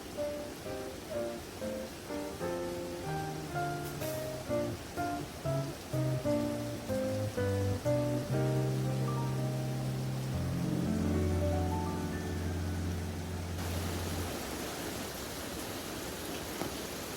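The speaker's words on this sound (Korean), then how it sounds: "끊임없이 내리는 빗소리를 들으며" Steady rain falls continuously over a valley campsite in winter, a soft broadband hiss running throughout beneath tonal music that fades out near the end, leaving the rain alone.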